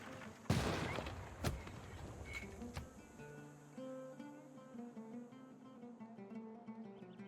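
Gunfire in the strategy video game Civilization V during a war, a loud sudden burst of shots followed by a couple of sharper cracks, then fading into soft game music tones.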